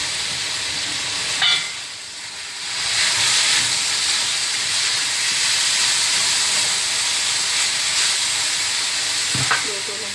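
Fish cake dropped into hot cooking oil, giving a steady hissing sizzle that swells after the pieces go in and holds throughout, with a few brief louder crackles and no talking.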